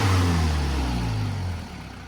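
A car engine idles smoothly with a low, even hum up close, then eases slightly quieter toward the end.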